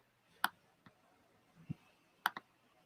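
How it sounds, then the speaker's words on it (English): Quiet, scattered key clicks from a computer keyboard sound close by in an otherwise quiet room, coming as a handful of separate taps with one soft thump among them. "I'm going to type on my lower keyboard so it doesn't make all noise."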